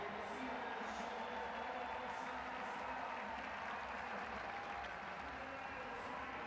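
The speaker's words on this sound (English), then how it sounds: "But still, warm applause from this London crowd." A London stadium crowd at a Paralympic men's C4-5 1km track cycling time trial applauds warmly, a broad, even wash of clapping heard from a distance and sustained throughout, with a commentator's voice faintly beneath.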